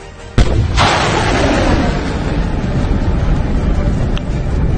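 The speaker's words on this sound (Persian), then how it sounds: "شلیک به هدف بعدی با این سامانه در نقطه دیگر" A missile launcher fires during military exercises on a coast, a sudden loud blast followed by a sustained roaring rush that stays loud and gradually settles.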